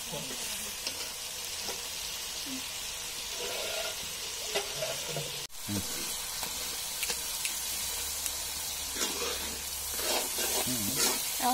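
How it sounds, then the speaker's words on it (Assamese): Onions fry in a pan on an open wood fire, giving a continuous close sizzle with bursts of stirring scrapes and spitting, and no talk over it. "এয়া দেখিছেনে মই পিঁয়াজখিনি ভাজি আছিলোঁ যে"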